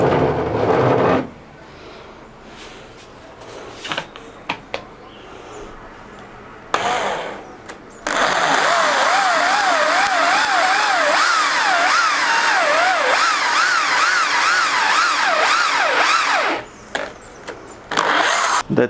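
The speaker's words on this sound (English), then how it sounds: "I will go ahead and drill it." A handheld power drill fitted with a 20 mm bit bores into a workpiece, loud and close, with a few short bursts of the motor and then a long, sustained whine whose pitch wavers as it cuts before it stops.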